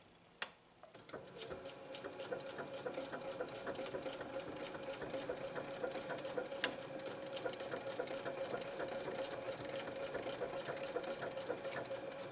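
A Janome 3160 QDC sewing machine runs steadily through a star stitch, its fast, even mechanical whir and ticking needle action starting after a brief click and continuing nearly unbroken at moderate loudness.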